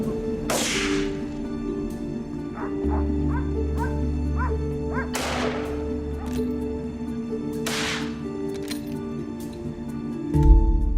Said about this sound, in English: We decided to count on the hunting dogs for backup. Their sharp barks kept the team alert and focused.